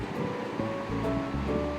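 Water poured into a cooking pot for Delhi-style mutton stew, a short, steady gushing splash heard close up with no voices.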